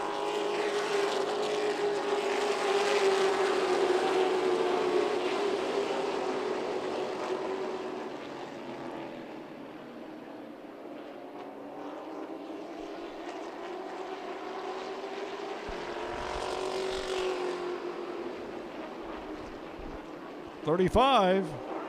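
Race cars circling Myrtle Beach Speedway during a late-race stretch, a loud sustained engine drone that swells and fades as cars pass, with a trackside announcer talking over it.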